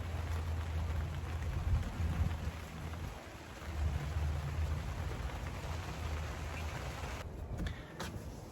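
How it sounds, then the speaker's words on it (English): Steady rain hisses and patters continuously, a dense even wash of sound with a low background rumble throughout. "Can you hear the rain?"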